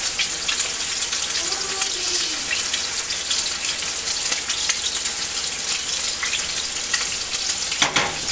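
Torrijas, milk-soaked slices of Spanish French toast, frying in a pan, a loud, continuous close sizzle and crackle with no break for several seconds.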